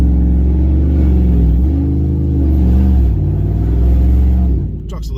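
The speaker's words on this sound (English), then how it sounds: "Truck's a little loud, guys." An 808 hp Ram TRX pickup's engine rumbles loudly and steadily up close, swelling slightly, with people talking over it before it drops away near the end.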